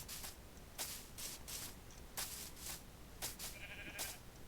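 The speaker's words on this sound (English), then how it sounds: "Here's another sheep." Minecraft sheep bleats, short nasal calls repeating every half second or so in loose bursts, moderately loud over a steady low game-ambience hiss.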